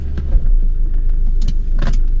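Rover P6 2000 automatic pulling away for a drive, a close, loud low engine rumble with rattles and a few interior clicks and knocks over about two seconds.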